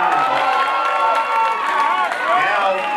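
A live crowd at a vogue ball battle cheers, whoops and claps loudly and continuously for a dancer, a dense roar of shouting voices with applause mixed in throughout.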